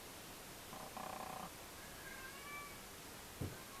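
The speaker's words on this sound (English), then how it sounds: "That's a cat." A cat gives a couple of soft, quiet meows with faint harmonic tones, and a brief low rumble follows near the end, all over a low background hiss with no talk.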